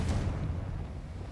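A fiery Confringo spell blast in Hogwarts Legacy, a single booming burst at the start that rumbles low and fades over a second, loud and close with no voices.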